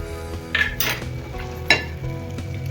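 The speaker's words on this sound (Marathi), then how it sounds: "पटपट हलवून घ्यायचं आपल्याला क्रीम घातल्यानंतर" Fresh cream being stirred into paneer lababdar gravy in a pan, with a spoon scraping and clinking against the metal in a few quick strokes over a soft background sizzle.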